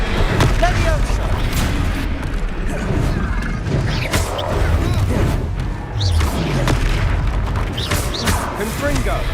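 Spell-casting combat in Hogwarts Legacy: repeated booming impacts, crashes and magical whooshes in quick succession, loud and dense, with a shouting voice over the clash.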